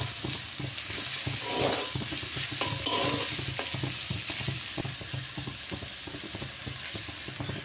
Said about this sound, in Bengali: আমি এবার এই চাউমিনটা এবার এই তেলের মধ্যে দিয়ে দেবো, আর এই কাঁচা লঙ্কাগুলো দিয়ে দেবো